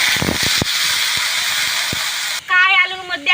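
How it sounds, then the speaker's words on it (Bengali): Kai potatoes go into hot oil in a cooking pot, setting off a loud, steady hiss of sizzling with a few sharp pops, ending abruptly as a voice begins talking. "এই তেলের কোরের মধ্যে কায়ালু দিয়ে দেবো"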